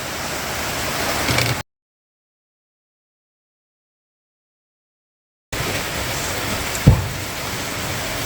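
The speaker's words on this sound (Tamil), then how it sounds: "மழை பெய்யுது." Steady rain pours down in a continuous wash of hiss, cut off by a few seconds of dead silence, then resuming with a single sharp knock partway through.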